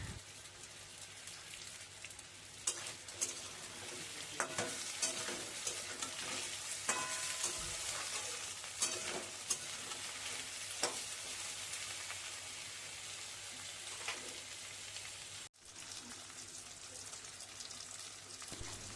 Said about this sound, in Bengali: সব কিছু হালকা করে ভাজা হয়ে গেছে